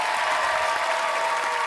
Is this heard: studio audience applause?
yes